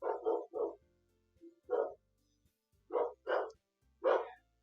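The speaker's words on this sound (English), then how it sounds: "Oh, dog ambience. We love dog ambience." A dog barks in the background, about seven short separate woofs in uneven bursts, some coming in quick pairs and triplets, moderately loud with silence between them.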